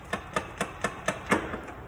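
Seven or eight sharp, evenly spaced metallic knocks as a CV axle is used as a hammer on the front end of a 2010 Toyota Corolla, close and moderately loud with no talk.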